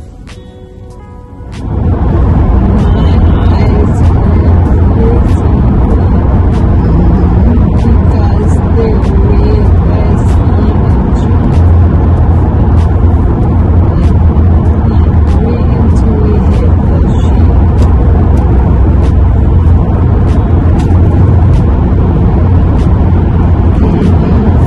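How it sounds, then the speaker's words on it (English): Car driving in heavy traffic in Boston, heard from inside the cabin: a steady low road rumble and engine drone that swells up after a quiet opening and continues loud and constant, with a few faint ticks over it. "I'm in a lot of traffic because I'm driving in Boston"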